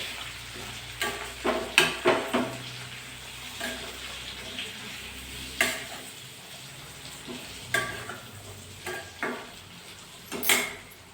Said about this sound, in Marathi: आणि हे जाडसर शेंगदाण्याचं कूट. छान मिक्स करून घ्यायचं.